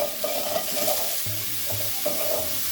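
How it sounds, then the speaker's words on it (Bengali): Cauliflower pieces seasoned with salt and turmeric fry in hot oil in a kadai while being stirred. A steady close sizzle continues throughout, with scraping stir strokes sounding at intervals and no talking. "এবার ভালো করে আমরা ফুলকপি ভেজে নেব।"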